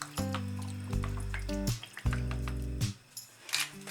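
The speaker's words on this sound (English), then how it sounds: "a bit of Worcestershire sauce," Worcestershire sauce being added to a pot of scouse, a wet glugging and dripping pour heard close up in two long bursts with soft squelching between, no talking.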